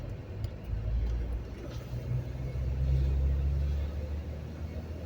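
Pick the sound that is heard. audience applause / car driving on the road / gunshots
car driving on the road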